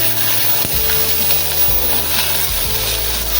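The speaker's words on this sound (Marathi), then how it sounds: "थोडंसं त्यातच आता अर्ध तळत आलं तर कांदा टाकूया" Coconut and onion frying in a pan for chicken curry, a loud close sizzle with spatula scraping and stirring, a low hum running underneath.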